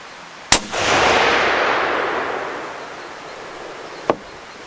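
A rifle firing a 180-grain match cartridge on an outdoor range: one sharp loud crack followed by a long rolling echo that fades, then a second brief sharp report about three seconds later.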